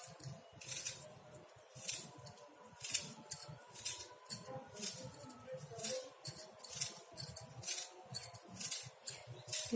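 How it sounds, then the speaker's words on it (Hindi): A hand peeler scrapes the skin off an apple in steady repeated strokes, each a short, crisp, wet rasp, close and fairly quiet, continuing in a regular rhythm. "छील लेते हैं छीलनी से"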